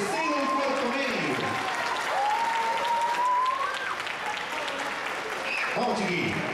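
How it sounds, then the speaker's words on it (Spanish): At a school's Fiestas Patrias celebration, a crowd applauds the third- and fourth-year students with loud, continuous clapping, while an amplified voice speaks and cheers over the top. "doble el aplauso para los alumnos de tercero y cuarto medio"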